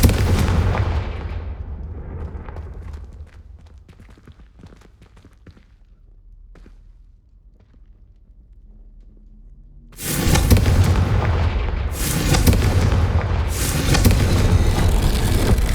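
Confringo fire spell explosions in the Hogwarts Legacy video game, a loud burst of booming blasts that opens the clip, fades to quieter crackles and thuds, then returns as a sudden sustained barrage of heavy explosive roar.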